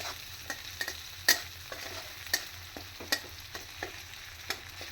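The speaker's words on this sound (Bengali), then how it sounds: "এবার আমি মশলাটা ভালো করে কষিয়ে নিচ্ছি।" A paste of onion, garlic and finely grated ginger fries in a pan for palak paneer, with a soft steady sizzle broken by sharp clacks of a spatula scraping and stirring at irregular intervals, close by, with no voices.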